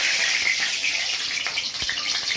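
Hot oil sizzling and spitting in a kadai where a little water remains, a steady bright hiss with scattered pops, close and fairly loud, no voices.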